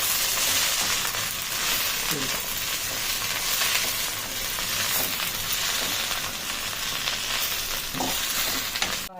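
Gongura (sorrel) leaves frying in a little oil, with a steady broadband sizzle running throughout and occasional faint stirring scrapes, close and fairly loud with no talking.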